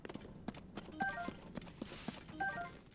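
Horse hooves clip-clop at a steady walking pace in the video game Zelda Tears of the Kingdom, light rhythmic knocks heard softly alone with faint game ambience.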